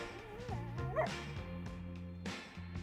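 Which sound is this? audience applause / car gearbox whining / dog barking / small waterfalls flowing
dog barking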